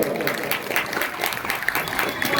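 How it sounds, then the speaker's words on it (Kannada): Audience at a Mahadev Parvati festival gathering clapping together, a dense burst of many hands applauding at close range, sustained for the whole moment with a voice briefly audible underneath. "ನೀವೆಲ್ಲರೂ ಜೋರಾದ ಚಪ್ಪಾಳೆಯನ್ನು ತಟ್ಟರೆ ಎಲ್ಲರೂ ಕೂಡ ನೋಡೋಣ"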